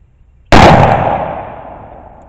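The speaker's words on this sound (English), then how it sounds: "That's like 357 Magnum power with a 45 caliber gun." A single loud gunshot from a .45 caliber gun loaded with Triple Seven powder: a sharp crack after a short quiet moment, then a long ringing echo that fades over nearly two seconds.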